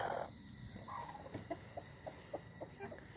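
Chickens in a coop of some 30 to 40 birds, including a brooding hen, cluck softly in scattered, irregular bursts at moderate distance over a steady background hiss.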